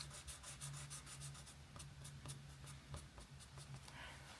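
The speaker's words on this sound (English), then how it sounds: "let's just give this again a little bit of a dab with the putty eraser" A putty eraser is dabbed and rubbed over a coloured pencil pinecone drawing on paper, giving soft, faint repeated scratchy strokes in a quiet room.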